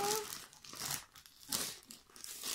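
Plastic wrapping around a Diamond Art Club canvas crinkles and crackles close up in several bursts of rustling, with a brief voice at the very start.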